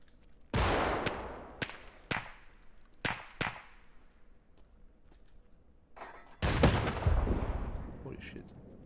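Gunfire inside a building in a video game: a series of sharp, loud shots in irregular bursts, several isolated cracks, then a heavier, sustained volley near the end.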